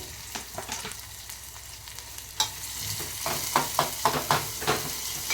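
Chopped onion and green chilli sizzle in hot oil for a cucumber chutney, a steady frying hiss broken by sharp scraping clicks of a spatula stirring the pan, growing busier toward the end.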